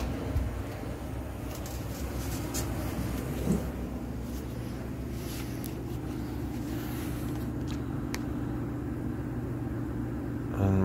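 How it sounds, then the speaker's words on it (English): A home HVAC blower runs at a lowered speed, giving a steady low rumble and airflow hum with faint clicks. "You can hear the blower speed slowed down."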